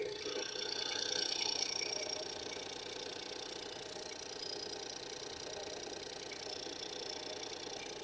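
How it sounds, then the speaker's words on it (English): A Ford Focus 1.0L EcoBoost engine idles steadily after a wet cambelt replacement, a close, even mechanical hum and ticking with no voices. "Engine sounds good."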